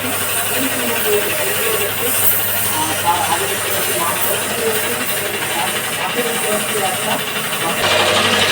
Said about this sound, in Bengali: মেশিন কালার চাপানো হচ্ছে ভাই হাতে কালার নয়